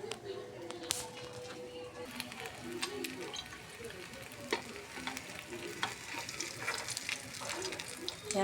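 A methi paratha cooks in a little oil on a pan, a low steady sizzle with faint crackles and occasional taps, while someone talks over it throughout.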